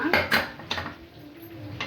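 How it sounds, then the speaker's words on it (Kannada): Metal pots and utensils clink and clatter in a few sharp, close knocks as a pressure cooker of chicken biryani is opened in a home kitchen. "ಇವಾಗ ಕುಕ್ಕರ್ ತೆಗಿತಾ ಇದ್ದೀನಿ ಬಿರಿಯಾನಿ ಹೆಂಗಾಗಿದೆ ಅಂತ ನೋಡೋಣ"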